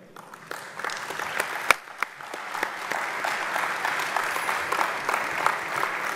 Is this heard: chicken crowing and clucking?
no